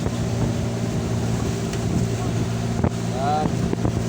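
Motorboat heading out from shore toward open sea, its engine a steady low drone under constant wind buffeting, with a voice speaking briefly near the end.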